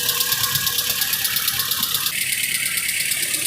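A Honda CR-V engine with a recently installed motor runs steadily up close, a continuous mechanical hum with a high whine and a slight change in pitch partway through.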